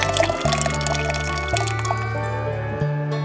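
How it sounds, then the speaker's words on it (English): Labrador tea, brewed on a Bluu camp stove outdoors, pours into a cup with a steady liquid trickle and rising fill tone, accompanied by low humming music-like tones throughout the short stretch. "See what it looks like pouring in."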